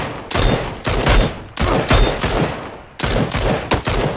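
Loud, close automatic gunfire from the battle royale video game PUBG comes in several sustained bursts separated by short pauses.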